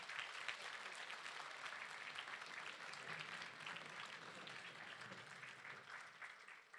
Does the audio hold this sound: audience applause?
yes